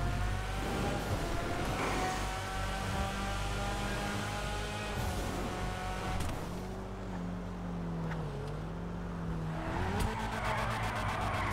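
A 2002 Mazda RX-7 ZR350 in GTA Online drifts with a steady engine drone and changing revs, while tires squeal in sliding bursts throughout, loud and close.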